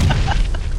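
A grenade blast in a video game, a loud low boom with rumbling debris, short and close.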